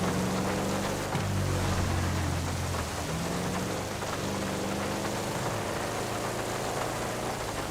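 Steady, dense rain in GTA 5 Enhanced, falling without a break and mixed with low engine rumble and traffic, with no one speaking.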